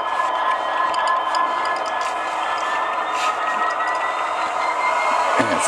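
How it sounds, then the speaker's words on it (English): An Athearn F59PHi CDTX #2002 model locomotive reverses steadily with a continuous mechanical whir and faint rattling of wheels on track, close by, with no talking. "let's back up the train, or back up this engine."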